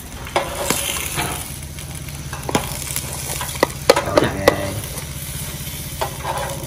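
Bánh khọt batter with clams sizzles and fries in a pan as it is stirred, a constant close crackle with sharper scraping knocks of the utensil, and no talking.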